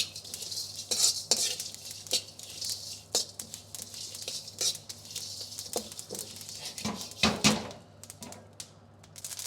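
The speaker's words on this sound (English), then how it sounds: "So there's all my seeds, just nicely toasted, my sesame seeds and everything else." Pumpkin, flax and sesame seeds toast in a hot pan, giving a steady run of close, light crackling and scraping clicks with a few sharper taps of a utensil against the pan. No one talks.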